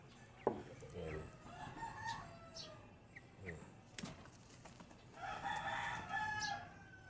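Fighting gamecocks crow and cluck after feeding at around 45 days old, the calls fairly distant and faint against a quiet yard, with some soft talk nearby.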